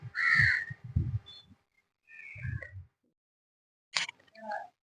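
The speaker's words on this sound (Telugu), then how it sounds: "ఓన్లీ కాకుల సౌండ్ వినిపిస్తుంది." Crows caw in a terrace garden before dawn: several loud, harsh calls come in separate bursts with short silences between them.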